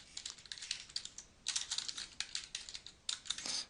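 Typing on a computer keyboard, quick, soft bursts of clicking keys in uneven runs with short pauses between, close and fairly quiet.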